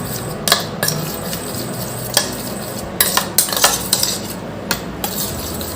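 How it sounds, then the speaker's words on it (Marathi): A spoon whisks strained, thick curd in a bowl, making soft repeated scraping and clinking taps that come in irregular bursts, louder toward the end, with no talking. "थोडे चमच्याने छान फेटून घेते"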